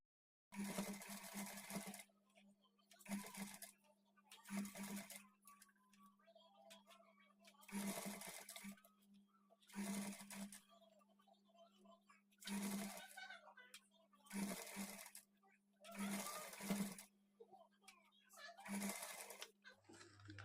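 A sewing machine stitches piping on a blouse in repeated bursts of fast, rattling needle runs, each lasting one to two seconds with short pauses between, close and clear.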